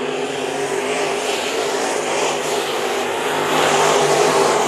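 Continuous engine roar of race cars during an eight-lap heat race at Bakersfield Speedway, a dirt oval, loud and steady with a slight swell toward the end, no talking.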